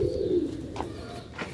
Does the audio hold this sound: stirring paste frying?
no